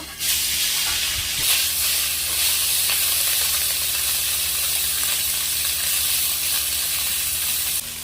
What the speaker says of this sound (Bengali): এবার আমি এই মাছগুলো ভেজে নেব।